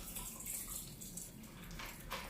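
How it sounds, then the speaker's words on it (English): A drink poured from a water bottle with a built-in strainer into a glass, a Parisian daiquiri made with rum, giving a steady liquid splashing and trickling sound for about two seconds at moderate level. "pour this drink into this glass"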